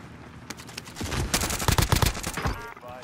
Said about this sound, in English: I'm getting shot from like 4 different teams